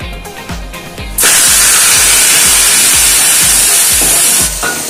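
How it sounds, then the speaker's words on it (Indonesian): Spice paste sizzles loudly in a pan over low heat while sautéed for Padang gulai cincang, a steady hissing fry that starts abruptly and holds strong, with soft rhythmic stirring scrapes underneath. "Tumis bumbu hingga harum."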